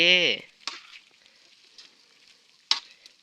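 Vegetables stir-fried in a pan in a rural Isan-style outdoor kitchen, giving a steady low hiss with a few sharp clanks of a utensil. A short tonal burst opens it and no one speaks.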